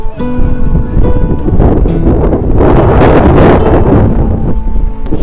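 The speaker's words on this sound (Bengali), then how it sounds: "সামনে সমুদ্রের সুন্দর হাওয়া আসছে, ঝোড়ো হাওয়া আসছে, আর সমুদ্রের গর্জন।" Strong gusty sea wind blows across the shore at Digha beach, buffeting loudly and close with a swelling roar at its peak, mixed with a faint tonal hum of distant background activity.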